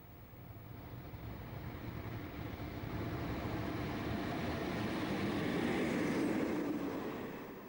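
Class 47 diesel locomotive 47845 hauling a Glasgow to Brighton passenger service past West Ealing, a broad rumbling roar that swells steadily as it nears and passes, then starts to fade.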